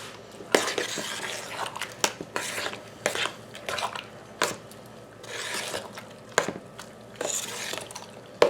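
Tomatillo salsa is stirred in a pot with a spoon, heard as repeated scraping strokes and clinks against the metal in an uneven rhythm, close and clear, with no talking.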